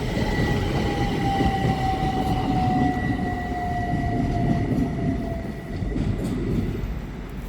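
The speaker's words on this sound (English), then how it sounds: "Now arriving is a Great Western Railway service to Newbury Racecourse, which is worked by 387169 and 387156." A Great Western Railway train formed of units 387169 and 387156 pulls into a station on a service to Newbury Racecourse, with a loud, steady rolling rumble and a long, high squealing whine from the wheels as it slows, with no talk.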